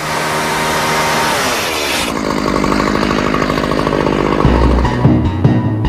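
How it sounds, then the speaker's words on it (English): Chainsaw fitted with a carbide blade cutting up an airplane, a loud, steady buzzing drone that shifts pitch partway through as the blade bites into the metal, with no talking. "Basically, what you'll use is like a chainsaw, which has a carbide blade on it,"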